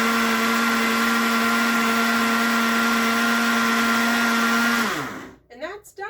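A blender runs on salsa verde with a loud, steady whir for almost five seconds, then winds down and stops. A few faint clatters follow.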